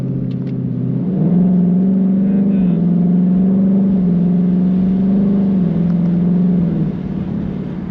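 A Ford Mustang GT with a 10-speed transmission driving through its gears, a loud steady engine drone heard from inside, with the pitch rising and falling in smooth steps as it shifts.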